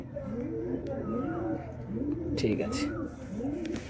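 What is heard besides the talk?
pigeons cooing in a loft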